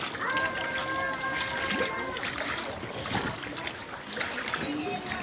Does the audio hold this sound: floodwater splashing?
yes